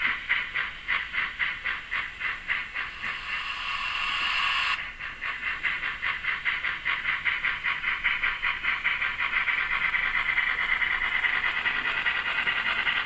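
Steam locomotive running round a short train, a steady rhythmic chuffing with hissing steam at moderate distance, a brief louder hiss burst early on before the beat carries on evenly.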